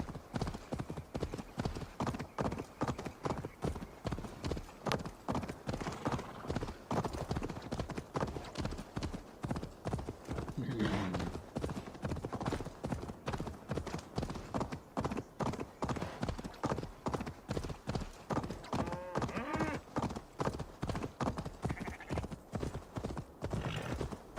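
Horse hooves clip-clopping in the Assassin's Creed Valhalla video game, a steady rapid rhythm of hoofbeats continuing throughout at fairly low volume, with occasional voices and a faint whinny.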